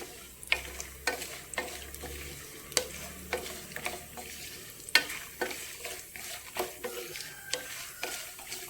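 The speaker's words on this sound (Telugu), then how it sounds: "కొంచెం వేగినాయండి, పచ్చిమిర్చి, కరివేపాకు వేసేసుకున్నాం." Peanuts, green chilies and curry leaves fry steadily in a pan, a continuous sizzle broken by repeated close scraping and stirring clicks with no talk.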